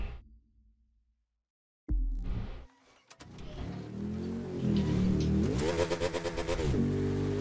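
A Ducati Panigale motorcycle engine in The Crew 2 starts after a brief silence, then revs up and climbs in pitch, ending in a loud run of rapid throttle blips.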